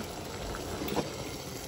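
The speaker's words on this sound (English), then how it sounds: "our water is boiling" A pot of water at a rolling boil in a home kitchen, a steady soft bubbling hiss heard alone at low level for a moment, with no voices over it.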